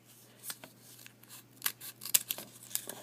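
Scissors cut a rounded petal shape from corrugated material for a bud jelly roll flower, giving a handful of crisp, close snips spaced irregularly over a few seconds with no voices.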